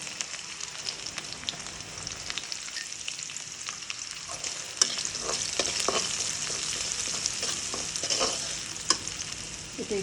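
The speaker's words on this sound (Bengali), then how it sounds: "তেলের মধ্যে পেঁয়াজ দিয়ে দিলাম।" Salted onions fry in hot oil in a home kitchen, a soft, continuous sizzle broken by occasional scraping stirs that grow slightly busier later, heard alone without talk.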